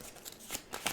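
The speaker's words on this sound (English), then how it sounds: "Shuffle, shuffle, shuffle, shuffle, shuffle, shuffle." Playing cards are shuffled into a deck during a tabletop card game, making a quick series of crisp, papery riffling bursts, close and moderately loud.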